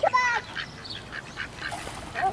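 Hungry ducks at a pond quack in quick, overlapping calls while being fed, forming a close, busy chorus over faint outdoor background noise.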